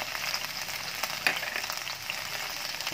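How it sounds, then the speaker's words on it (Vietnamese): Garlic stir-frying in oil in a pan, a steady close sizzle and crackle that holds evenly throughout with no voices. "Xào lên tỏi cho nó thơm."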